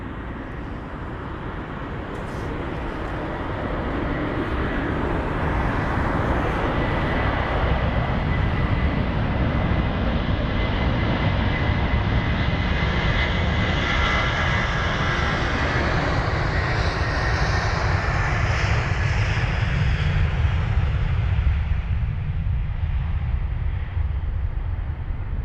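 Delta Air Lines Airbus A330-200 bound for Salt Lake City moving at London Heathrow, a steady, loud broadband jet engine roar that holds for the whole stretch with no voices.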